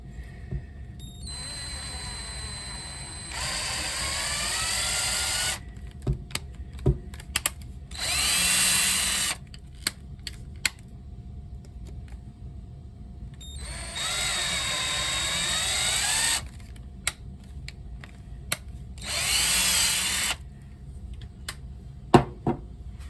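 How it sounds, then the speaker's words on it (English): Power drill tapping holes in the die-cast metal base of a Matchbox K-6 Super King GMC Brigadier toy truck: several whining drill bursts of a few seconds each, separated by pauses with small clicks and knocks. "I got a couple holes to tap on the bottom of this K6"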